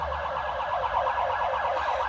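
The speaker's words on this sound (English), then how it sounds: "I'm going to wait for this ambulance to pass." An ambulance siren passes outside an office on a business street, its rapid warbling tone loud and continuous over a low traffic rumble, with no voices.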